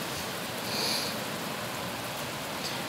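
Rain falls steadily near a mustang being haltered, making a dense, even hiss that fills the whole stretch at a constant moderate level, with no voices heard.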